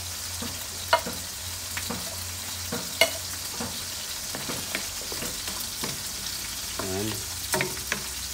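Garbanzos (chickpeas) fry in a pan with bagongon for an igado-style dish, a steady sizzle broken by sharp clinks and scrapes of stirring; a voice speaks briefly.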